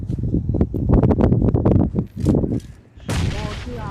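Gunfire and explosion blasts from grenades in the mobile battle-royale game PUBG Mobile, with dense rapid shots followed by a loud, sudden booming burst near the end, all close and forceful.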